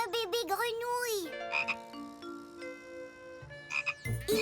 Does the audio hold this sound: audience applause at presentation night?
no